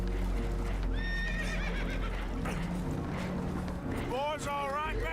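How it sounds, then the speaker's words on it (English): Spooked horses in the video game Red Dead Redemption 2 whinny shrilly twice near the end, over a rushing, rumbling boat taking on water, with people talking throughout. "Horses are spooked, and we're taking on water."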